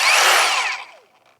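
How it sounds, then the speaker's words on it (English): A close, loud burst of a Kreg Rebel 20V cordless pocket hole drill running briefly, its whine falling away as the motor winds down. "pull the trigger up, and the drill will start"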